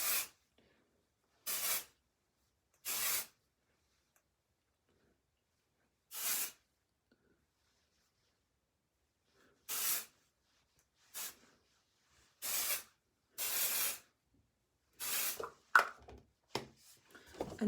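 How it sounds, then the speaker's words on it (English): Short bursts of texturizing dry shampoo sprayed onto hair, about ten separate hissing pumps with quiet gaps between them, close and clear with no talking. "it's a dry shampoo as well. So it soaks up the oil and it's super great. So you just spray it."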